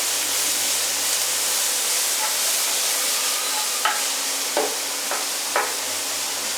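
Diced vegetables and ham sizzling in a pan with chili flakes, stirred: a steady frying hiss throughout, close and alone, with a few soft scrapes of the stirring utensil against the pan.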